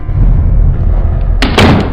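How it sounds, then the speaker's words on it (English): A shack door closes with a sudden solid thunk and a short rattle near the end, cutting through a loud, low rumbling background. "The door to the shack closed behind me."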